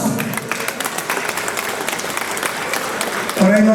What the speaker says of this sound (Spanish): Fuerte las palmas.